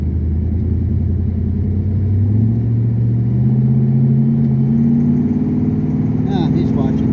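A 1969 Plymouth Fury climbing a hill, its engine a low rumble rising steadily in pitch as it pulls under load, heard from inside the car while a person talks over it.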